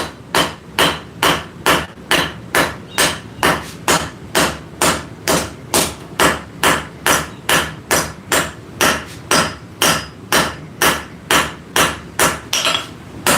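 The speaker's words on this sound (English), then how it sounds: "The nice thing about the power hammer is it doesn't make you have to use your arm" A power hammer beats hot metal in a forge workshop with steady, evenly spaced heavy blows, about two a second, loud and close, with no talking.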